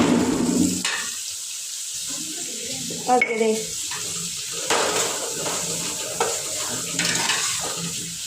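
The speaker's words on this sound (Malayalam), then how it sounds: "നന്നായിട്ടൊന്ന് ഇളക്കി കൊടുക്കണം" Biryani masala frying in a pan while being stirred, giving a steady sizzle with scraping and clattering stirs, and a voice speaks briefly over it.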